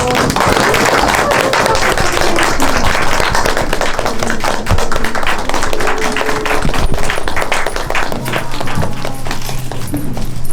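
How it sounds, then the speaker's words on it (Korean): Audience clapping steadily at a Korean film screening talk event welcoming the director and two actresses, a dense, loud wash of hand claps that continues for about ten seconds with scattered sharper claps. "박수 크게 부탁드려요."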